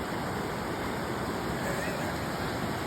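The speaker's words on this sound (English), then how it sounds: "Look at water is rushing." Fast river water at Rushing River Provincial Park rushes in a loud, steady, broadband roar with no breaks.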